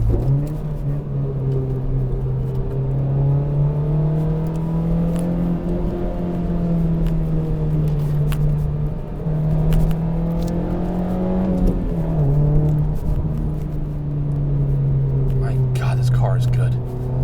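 Honda Civic Type R hot hatch driving on a road, heard from inside as a steady, loud low engine drone that rises and dips gently with speed, with faint talk over it.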